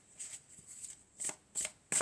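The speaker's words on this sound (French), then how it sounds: "On va mélanger encore." Tarot cards are riffled and shuffled close by in quick, crisp bursts, a few soft flutters followed by three sharper, louder shuffles, with no talking.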